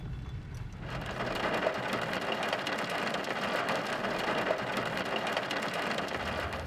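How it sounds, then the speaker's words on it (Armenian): Steady, heavy rain pours down, a dense continuous hiss that starts after a brief quieter moment and holds evenly throughout. "Չնայած հորդառատ անձրևին որոշեցինք բաց չթողնել երբեմնի հզոր վանական համալիրը տեսնելու հնարավորությունը"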